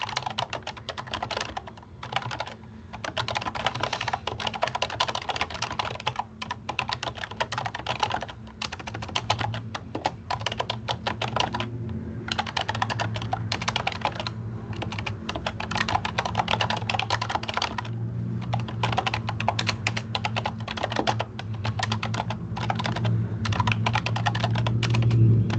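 Steady computer-keyboard typing while a form is filled in, quick irregular keystrokes in bursts with brief pauses, close and fairly loud over a low background hum throughout.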